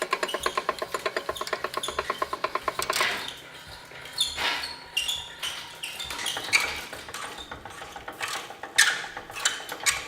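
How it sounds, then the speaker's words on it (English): Winch paying out cable to lower a Tallescope ladder section, with a fast ratcheting clicks at first, then slower irregular mechanical clanks and taps, close and fairly loud. "By steadily paying out the cable from the winch, the ladder section is lowered in a smooth and controlled fashion"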